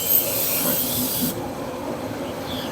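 A spray gun hisses steadily as it coats a Stratocaster guitar body in black paint, a close, continuous airy spray that thins out partway through.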